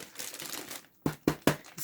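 Plastic bag from HP 17 laptop packaging crinkling as it is handled, a steady rustle followed by three sharp crackling crunches, close and clear with no talk.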